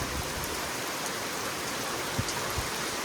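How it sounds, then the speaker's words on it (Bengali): Heavy rain pouring around a shed beside a garden, a dense steady hiss of rainfall on surfaces with a few louder drops, nearby and constant. "চারিদিকে শুধু বৃষ্টি, কি পরিমাণে বৃষ্টি দেখুন"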